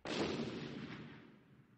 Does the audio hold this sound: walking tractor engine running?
no